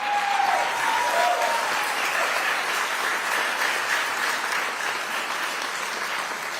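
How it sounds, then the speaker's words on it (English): Strong, sustained applause from a crowd at a State of the City address honoring a veteran, a thick continuous roar of clapping that stays loud and even throughout, with a brief whistle near the start. "Let's give him a round of applause."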